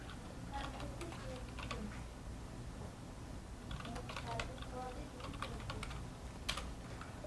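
Keystrokes on a computer keyboard as a Linux ls command is typed, a scattered run of soft clicks in short bursts, faint and close, over a steady low background hum.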